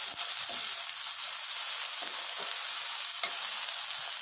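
Sliced okra sautéing in a pan with salt for a peanut okra stir-fry, a steady close hiss of frying with a few soft stirring knocks, no voices.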